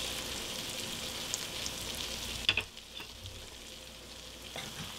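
Rice with juices sizzling in a cast iron pan with the flame off, a steady gentle frying hiss broken by a brief clatter of stirring midway before the sizzle settles and continues softly.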